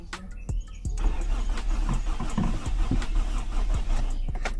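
A car with a weak battery cranks over without catching, its starter churning in a rapid uneven rhythm for a few seconds, close up with clicks and clatter and no voices.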